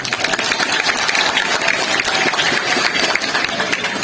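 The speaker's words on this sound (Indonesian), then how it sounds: "tepuk tangan untuk Anda semua." Applause from a crowd at an Indonesian Independence Day speech event at an Islamic boarding school, a dense continuous patter of many hands clapping at steady loudness throughout, with no voices standing out.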